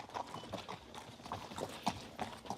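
Andalusian horses walk on a hard surface, a steady run of close hoof clip-clops in uneven rhythm, fairly quiet, with faint background sound and no clear talk.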